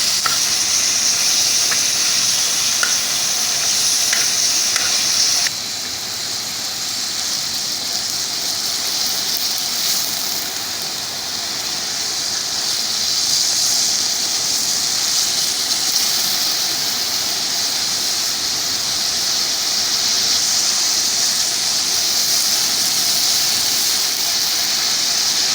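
Mutton liver fries on a hot tawa with a loud, continuous hiss that dips slightly partway through, steady and close with no talking.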